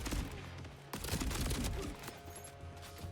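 Rapid video game gunfire from a legendary weapon in a looter-shooter, a dense burst of shots that breaks off briefly around the first second and then continues, loud and close with no talk.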